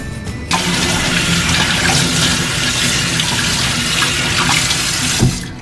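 Tap water runs steadily into a sink to rinse out a part of a Bissell CrossWave floor cleaner, a loud continuous splashing gush that starts abruptly and stops near the end.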